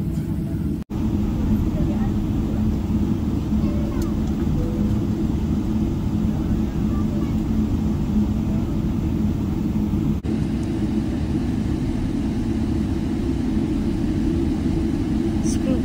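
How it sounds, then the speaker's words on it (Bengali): Heard from inside the economy cabin of an Emirates airliner on a Kolkata to Riyadh flight, the engines drone as a loud, steady low rumble at the start of takeoff. The sound is unbroken, with no speech. "ইঞ্জিনের আওয়াজটা শুরু হয়েছে"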